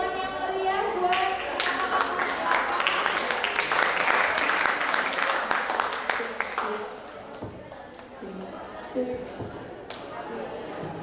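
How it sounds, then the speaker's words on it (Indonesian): Audience clapping loudly at a school graduation and farewell ceremony for departing students, with children's voices mixed in. The applause is dense at first, then thins into scattered claps over its last few seconds. "tepuk tangan yang meriah buat"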